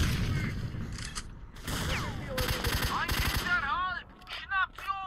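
Bursts of gunfire in the video game Stalker: Shadow of Chernobyl, rapid shots mixed with game sounds and chirpy effects, fairly loud.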